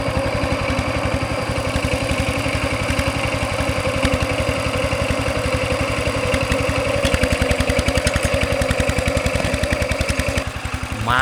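A tractor plowing a rice field in Laos, its engine chugging in a steady, even throb that holds close and loud for the whole stretch, with no voices over it.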